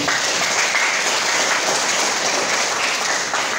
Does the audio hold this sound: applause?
yes